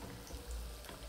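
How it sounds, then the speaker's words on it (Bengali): Amudi fish sizzling in oil in a pan, a faint, steady crackle and hiss throughout, with no voices. "আমুদি মাছটা আমার ভাজা হয়ে গেছে"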